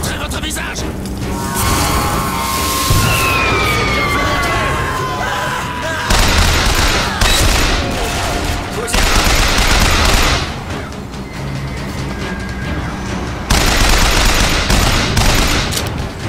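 Machine gun fire in Bioshock Infinite: long sustained bursts of rapid shots with booming impacts, loud and close, interrupted by brief pauses, while someone talks over the action.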